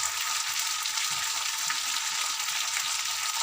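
Egg curry with salt and turmeric sautés in a pan, an even, dense close sizzle running throughout with faint stirring movements beneath.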